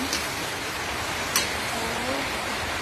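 Steady rain falls outdoors where food is being cooked, a constant even hiss of droplets with one brief sharper tap partway through.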